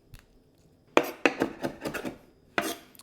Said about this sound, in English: You just want a bunch of fresh Italian parsley chopped.